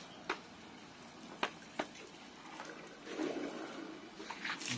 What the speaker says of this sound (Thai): ดูน้ำไหลแรง ไหลแรงอยู่นะครับ